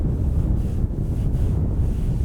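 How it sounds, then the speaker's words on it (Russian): Strong wind gusts over a frozen lake during winter ice fishing in a snowstorm, a loud low rumbling roar buffeting the microphone continuously, with no voices. "Вообще, ребятки, ветер ужасный, разгулялся."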